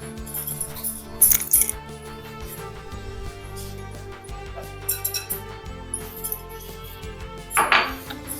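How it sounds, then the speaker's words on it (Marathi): Spice masala with fresh coriander is stirred in a bowl for Maharashtrian-style crispy brinjal fry, giving soft scraping and a few sharp clinks of a spoon against the bowl, close and alone. "आता कोथिंबीर पण मिक्स करून घेऊ।"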